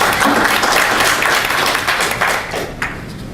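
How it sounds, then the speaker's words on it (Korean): Audience applause fills a hall at a Korean public hearing on abuses against franchise operators, welcoming a speaker: a dense, loud, steady wash of clapping lasting a few seconds that thins slightly toward the end, with no one talking. "박수로 청해서 듣겠습니다"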